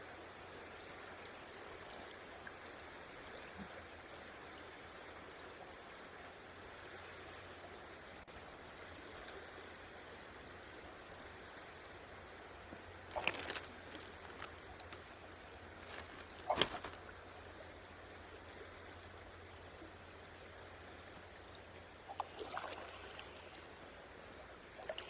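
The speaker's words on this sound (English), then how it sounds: "this trip down the river's a little bit relaxing" River water flows gently and continuously during a boat trip downstream on a foggy morning, a faint, even wash with occasional soft splashes and knocks.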